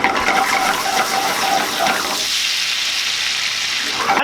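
A splash of water poured into melted butter and brown sugar in a pan bursts into a loud, hissing sizzle with bubbling, easing after about two seconds into a quieter steady simmer before a brief swell at the end.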